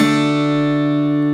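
Electric or acoustic guitar strings ring together on a single sustained chord from a song's intro, steady and fairly loud, lasting just over a second.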